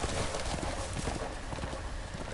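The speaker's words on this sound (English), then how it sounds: "Horse, come back!" A horse gallops in a Game of Thrones video game, rapid rhythmic hoofbeats clip-clopping loudly and close throughout the short stretch.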